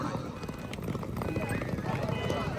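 Horse hooves clip-clop steadily on the ground at a large rural horse gathering with hundreds of riders, mixed into a busy wash of crowd noise and talk.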